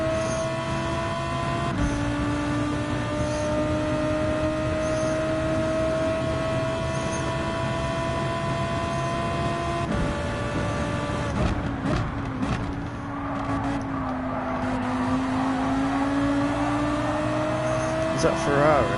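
Race car engines from Gran Turismo 7 drone steadily and shift pitch with gear changes, holding a constant whine close up, while a voice talks over them.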